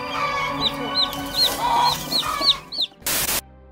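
A mother hen, guarding her chicks against cobras, clucks in a rapid series of sharp, evenly spaced calls that ends with a louder, abrupt burst of noise.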